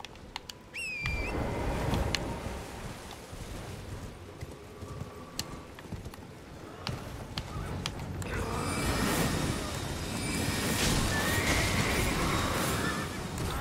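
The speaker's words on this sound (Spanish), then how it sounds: "Y ahora voy a caballo." In the video game Elden Ring, a horse gives a sharp whinny near the start, followed by a soft, rhythmic patter of hooves that swells into a busier rumble toward the end.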